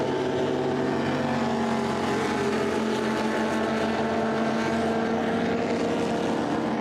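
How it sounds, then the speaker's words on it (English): Historic racing car engines roar continuously at close range at Spa-Francorchamps, a dense, steady mechanical drone with shifting pitch as cars pass by. "Have a listen to the cars as they come through here."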